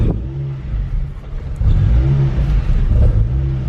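A Ford Fiesta ST with an aftermarket exhaust rumbles deep and loud as it pulls away in first gear, the low exhaust note swelling with acceleration, close by.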